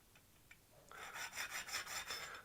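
Loose linear slide on a 3018 WoodPecker CNC rocked back and forth by hand, a faint, close, rough rubbing rasp in several short pulses after a soft click.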